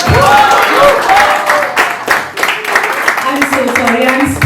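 Applause from an audience at a music launch event, a burst of clapping with crowd noise and singing or talk over it.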